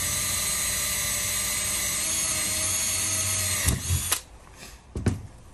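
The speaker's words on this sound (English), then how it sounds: "The old faithful Makita drill there, look, cracking bit of kit." A Makita power drill runs steadily as it bores into aluminium boxing during a coffee van serving-hatch fabrication, a loud sustained whine that stops near the end, followed by a couple of short clunks.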